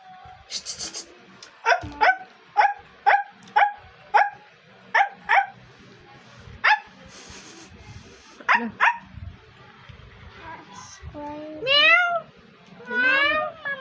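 A voice imitates a dog with a run of short yapping barks, then mimics a cat with drawn-out meows.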